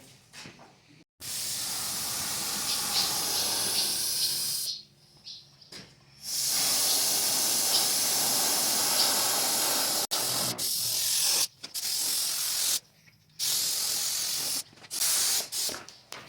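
Loud hissing spray in long continuous bursts while cleaning a David Brown 990 tractor, stopping and starting several times with short silent gaps between passes.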